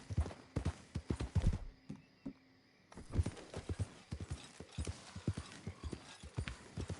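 Steady clip-clop of horse hooves in the game Red Dead Redemption 2, close and rhythmic, with a brief lull partway through before the hoofbeats resume.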